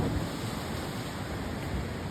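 Ocean waves crash against rocks at Terrigal on the NSW Central Coast at sunrise, a continuous loud roaring wash of surf with some wind noise and no talking.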